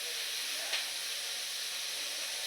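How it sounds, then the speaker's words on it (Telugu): Onions frying in oil for a village-style country chicken curry give off a steady, fairly soft sizzling hiss, with one brief brighter crackle near the start and no talking. "ఇది మంచిగా ఫ్రై అవ్వాలండి ఆనియన్ ఆయిల్ అయితే"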